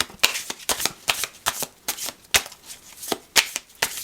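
Tarot cards are shuffled by hand, giving quick, crisp riffling bursts in an uneven rhythm, close and clear with nothing else behind them.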